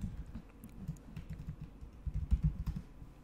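Typing on a computer keyboard while working in R, a steady run of soft, close keystrokes with a few louder clacks, no voice present.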